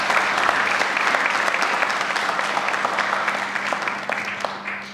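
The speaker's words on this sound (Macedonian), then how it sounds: "Аплауз ве молам." An audience at a sports award ceremony applauds steadily and loudly for several seconds, a dense clapping that eases slightly near the end.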